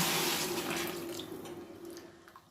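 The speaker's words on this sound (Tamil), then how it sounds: "ஒரு கிண்டிட்டு நம்ம தண்ணியை ஊற்றிடலாம்." Water streams into a pot of carrot ginger soup seasoned with pepper powder and curry masala, making a continuous close splashing pour that gradually tapers off.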